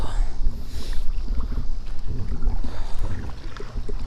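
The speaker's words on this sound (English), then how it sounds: "Wind just came out of nowhere, killing my vibe." Wind gusts buffet the microphone out on the water in a kayak, a rough, uneven rumble with flapping bursts and a faint hiss throughout, with no voices.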